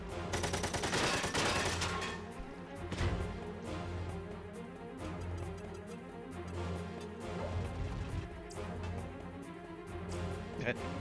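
Rapid gunfire in the video game Front Mission 4, a dense burst of shots at the start, then more scattered fire over game music and effects, with a voice talking over parts of it.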